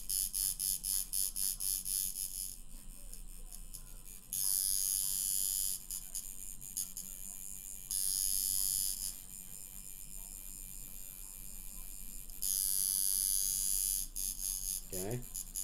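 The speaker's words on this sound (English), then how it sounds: "notice the noise of the sound of my machine" Electric tattoo machine buzzing in steady bursts during colour work, loud and close, with louder stretches alternating with quieter running and a voice briefly audible near the end.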